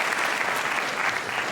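Audience applause fills a lecture hall at the KIKK24 festival: dense, steady clapping from many hands, loud and even throughout with no voices on top.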